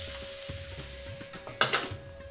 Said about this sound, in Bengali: আলু ভাজা বসিয়ে দিয়েছি আর প্রায় হয়ে গেছে